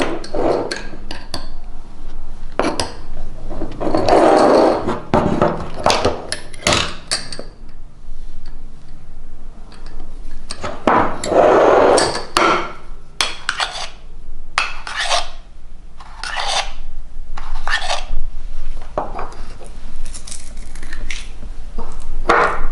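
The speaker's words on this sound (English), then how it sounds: "I'm going to whisk it around with a whisk." Dry ingredients with vital wheat gluten whisked in a bowl, a run of scratchy rasping strokes in bursts with clinks, close and fairly loud, no talking.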